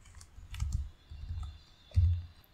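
Keys clacking on a computer keyboard while someone types code for a Solidity array function, a few quick bursts of presses with short pauses and a firmer strike near the end, close and clear with no talk.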